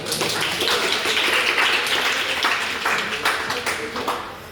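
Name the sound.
audience applause for a speech contestant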